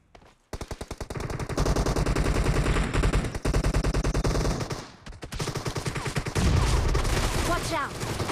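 Rapid automatic gunfire in a team deathmatch shooter game, long sustained rattling bursts with brief gaps, loud and close, broken by a short pause before firing resumes with faint game voices.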